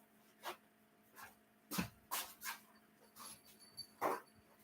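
A small dog whimpers and yips in a series of short, faint cries spaced irregularly across a few seconds, set against a quiet background hum.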